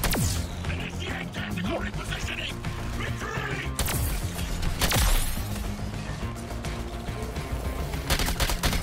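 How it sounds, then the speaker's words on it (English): Sustained gunfire from the Suicide Squad: Kill The Justice League video game, with rapid bursts and heavy impacts layered over game music and effects, loud and continuous for the whole stretch. "I'm shooting the target"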